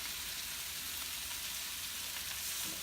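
Strips of rajas, roasted pepper strips for rajas con queso, frying in a pan with a steady, close, even sizzle and crackle that never lets up, with no talking over it.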